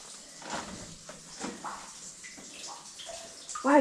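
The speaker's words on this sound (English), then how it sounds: "you can really hear water coming through the walls here, Clark." Water trickles and splashes faintly through the walls of a cave near Cat Bells in the Lake District, a soft, uneven gurgle with light echo and some shuffling movement.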